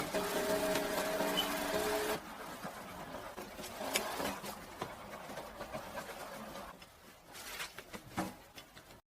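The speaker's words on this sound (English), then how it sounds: "Begin stitching the outside of the straw hat" Sewing machine stitching around the outside of a straw hat, a steady close mechanical whir that cuts to a lighter, uneven patter of stitching and handling.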